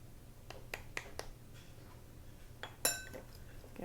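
A spoon stirs a dry streusel mix of flour, sugar and cinnamon in a bowl, giving a few quiet, scattered clinks and scrapes against a soft background hum, with one sharper clink near the end.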